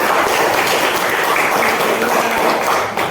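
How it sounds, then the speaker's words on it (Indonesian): Classroom of students applauding during a lesson, loud close clapping from many hands in a continuous even burst that drops off abruptly at the end. "Tepuk tangan buat Kak Kaila."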